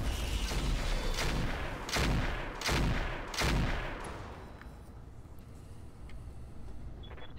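Mech weapons fire during a Roguetech battle, with a run of loud, heavy blasts in an uneven burst over about four seconds. A low rumbling backdrop lingers beneath them and then fades.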